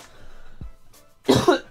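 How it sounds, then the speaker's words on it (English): A single sharp human cough bursts out near the microphone, loud and harsh, after a quieter stretch with a faint throaty sound earlier; no speech over it. "I don't appreciate this cough."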